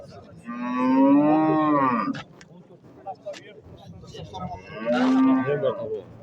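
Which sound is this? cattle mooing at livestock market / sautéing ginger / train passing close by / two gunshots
cattle mooing at livestock market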